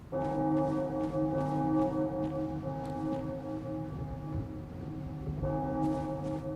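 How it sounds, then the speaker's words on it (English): Bells toll in the distance within the video game Bloodborne: The Old Hunters, a steady layered ringing with sustained tones that swell again near the end, under a dim ambient background with no talking. "Hear the bells in the distance."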